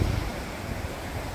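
Floodwater rushes through a dammed-up, overflowing brook after a flash flood, a loud, continuous, broadband roar heard close by with no voices.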